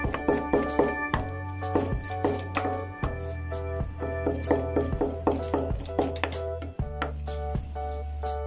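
Raw chicken meat is chopped coarsely into small pieces for a taro cake, with steady, rapid chopping taps continuing under background music.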